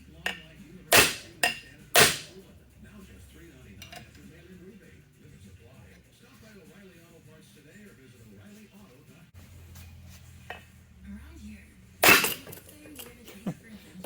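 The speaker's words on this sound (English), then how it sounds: "when you tap it, the crank will pop loose, and you'll see no damage to the flywheel" Several sharp metallic taps strike a Tecate 4 T4 engine crank to pop the flywheel loose: three quick hits near the start, then a longer gap and another tap, with faint clinks in between.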